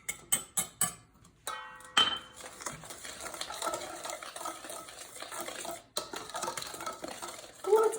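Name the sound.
adding cornstarch to pastry cream in a pot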